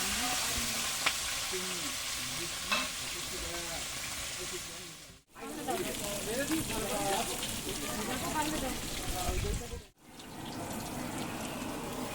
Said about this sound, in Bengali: তাই কাতলা মাছগুলো আগে ভেজে নিচ্ছি